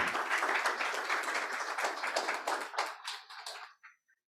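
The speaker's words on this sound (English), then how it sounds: "A round of applause to." An audience at a climate action event gives a round of applause. Brisk clapping starts dense and loud, then thins into scattered individual claps and fades out near the end.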